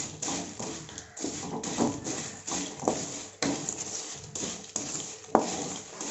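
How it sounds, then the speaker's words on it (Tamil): Fried appalam snack being stirred with curry leaves in a pan for a spicy evening snack, giving repeated close scraping, tapping and crackling strokes at an irregular, steady pace. "போட்டு நல்லா ஒரு மிக்ஸ் பண்ணிவிடுங்க."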